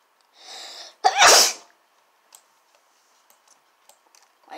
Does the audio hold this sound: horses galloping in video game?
no